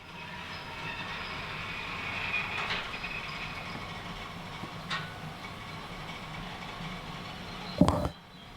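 A long train rolls along track in the Derail Valley game, a low steady rumble with faint wheel clatter, a couple of brief metallic squeals and a sharp clank near the end.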